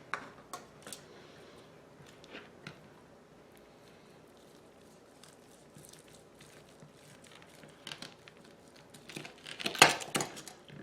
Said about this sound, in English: Anytime you slice beef ribs, they got bones in there. You got to go between them bones.